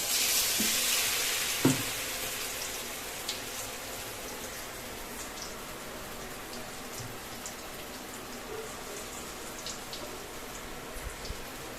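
Pumpkin flower fritters fry in hot oil with a steady, even sizzle that crackles lightly throughout, plus a brief clink near the start and no talking.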